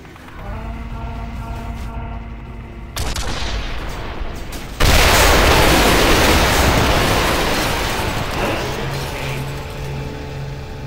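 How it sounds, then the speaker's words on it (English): Heavy cannon fire in the Quake 4 campaign blasts at a door to an access corridor, with crackling bursts building into a loud, sustained roar of explosions and debris that gradually fades. "Kane, hop in the cannon and see if you can't blow open the door to the access corridor."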